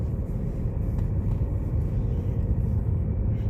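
A car rolling along a village road with potholes, a steady low rumble of tyres and engine heard from inside the cabin, continuous and fairly loud with no talking.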